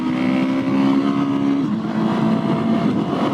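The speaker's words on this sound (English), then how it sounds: "Exhaust is on. And what does it sound like?" A Husqvarna 701SM single-cylinder motorcycle fitted with a Leo Vince Nero exhaust runs loud and close at a steady idle-to-midrange note, its pitch dropping slightly partway through, with no talking.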